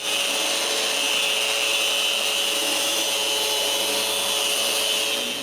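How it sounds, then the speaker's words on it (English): Steady, loud power-tool whine of an electric sander working wooden panels for a small workbench, continuous and close throughout with no talk. "I need to remove the interior marks and sand the panels"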